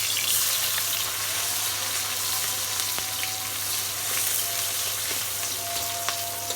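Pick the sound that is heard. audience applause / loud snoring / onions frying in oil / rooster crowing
onions frying in oil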